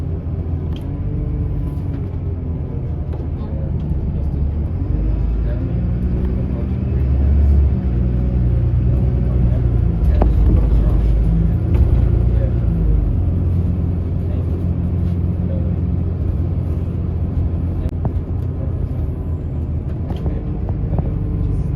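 A bus rolls through Clifden village in County Galway, its engine a loud, steady low rumble heard from inside the vehicle, swelling slightly as it moves on with no break throughout.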